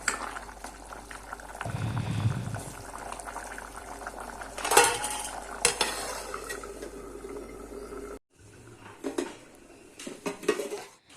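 Mutton curry gravy boiling in a pot during home cooking, with a steady bubbling simmer beneath clinks of pots and utensils, one louder clatter partway through and a brief break near the end.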